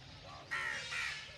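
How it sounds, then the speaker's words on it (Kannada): A crow caws twice in quick succession, harsh and fairly close, over a faint steady background hum. "ಆ ಕಾಗೆ ಮಾತ್ರ ನೋಡಿ ಅಲ್ಲಿ ಕರಿತಾ ಇದೆ"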